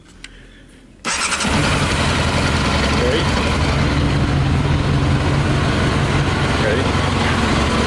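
A Yamaha motorbike engine running on whisky catches after a quiet moment and settles into a loud, close, slightly uneven idle that carries on steadily, with someone speaking briefly over it.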